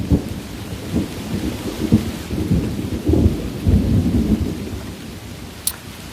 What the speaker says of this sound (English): you hear thunder again